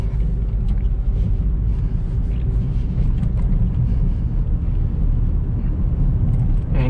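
A Honda Civic 1.8 FD1 automatic accelerates on an empty road, heard from inside as a loud, steady low engine and road rumble with no voices.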